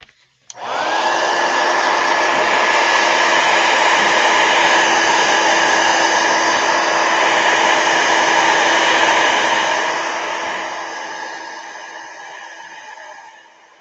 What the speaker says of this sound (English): I'm going to hit it with a heat gun first.